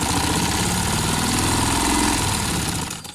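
A sewing machine stitches a plain trouser waistband with a continuous whirring motor hum and a rapid mechanical rattle that holds steady, then fades away at the end.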